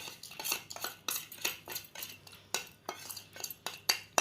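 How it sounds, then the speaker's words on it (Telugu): Chillies, mustard seeds, cumin, fenugreek and turmeric are pounded in a small stone mortar for a chutney, sharp close strikes repeating in an uneven rhythm about a dozen times, with no talking. "ఇలా చిన్న రోట్లో దంచుకోవాలి"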